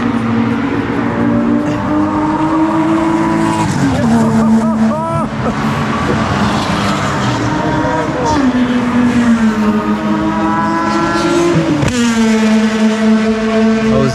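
An RWB car runs on a race track in Japan, its engine droning steadily with pitch shifting through gear changes, loud and continuous, while a voice talks over it.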